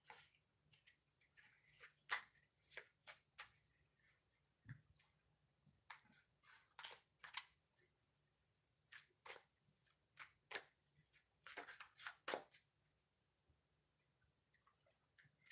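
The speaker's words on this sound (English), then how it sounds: "shuffle the decks first" Tarot card decks being shuffled, a steady run of crisp riffling bursts and soft flutters, close and fairly quiet, with no voices.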